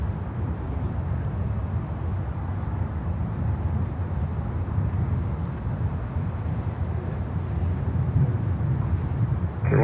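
An American Airlines jet lands on runway 9 at Miami, heard as a continuous low, rumbling engine roar mixed with wind buffeting, steady and moderately loud, building slightly toward the end, with no voices.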